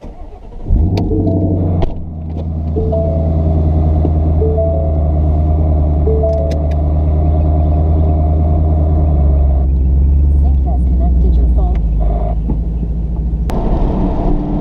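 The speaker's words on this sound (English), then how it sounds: "it's time to go for a drive" A car drives along a road on a Sunday drive, heard from inside the cabin as a loud, steady low rumble of engine and road noise that lasts the whole stretch without a break.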